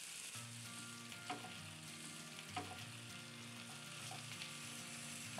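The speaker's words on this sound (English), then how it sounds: "now I just have to stir and start cooking the potatoes and onions" Potatoes and onions frying in a skillet, a soft continuous sizzle with a few distinct clinks of a utensil stirring, with quiet background tones underneath and no speech.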